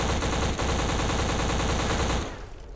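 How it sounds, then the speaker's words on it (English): Rapid automatic gunfire from the 2006 Xbox shooter Black, played through Xbox 360 backwards compatibility: a loud, punchy stream of closely spaced shots with heavy low thump, cutting off just before the end into a fading echo. "But God, the weapon sounds are just so good still."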